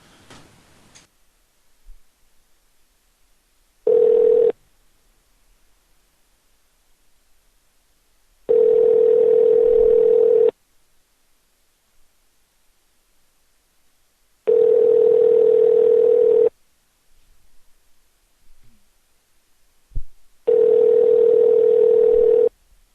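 Outgoing telephone ringback tone during an on-air call, four steady buzzing rings spaced several seconds apart, clear and alone with near silence between them.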